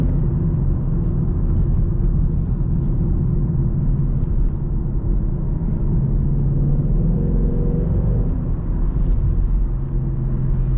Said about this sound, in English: this V8 just sounds phenomenal.